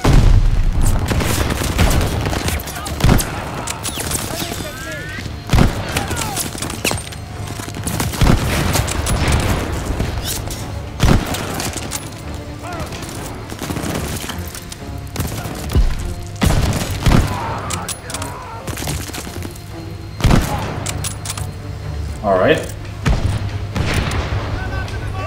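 Gunfire in Call of Duty Vanguard keeps popping as repeated sharp shots and bursts, with booming thuds over constant battlefield noise, loud and near. A person speaks at points over the firing.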